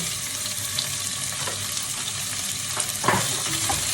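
Meat sizzles steadily in a hot pan with already-cooked garlic for pinakbet, a continuous close frying hiss with a few soft stirring knocks near the end.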